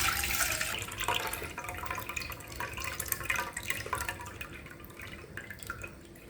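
Soaking water being drained off fermented rice, a running, dripping pour of liquid with small splashes, loudest at the start and then trickling on more quietly without talking.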